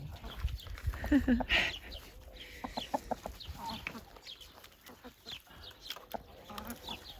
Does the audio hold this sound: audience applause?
no